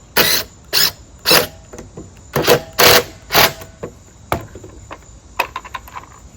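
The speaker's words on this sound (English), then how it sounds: "An impact driver makes quick work of it." An impact driver sinks screws into garden bed boards in a series of short, loud, rattling bursts, about half a second each, with brief pauses between them and a few lighter clicks and taps near the end.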